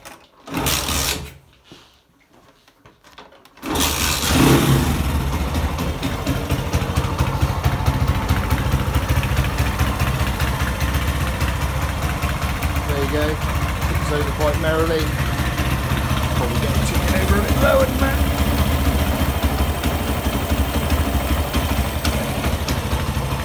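A warm vehicle engine, fresh back from an MOT test, starts after a short pause, then revs and settles into a steady, loud idle that continues to the end.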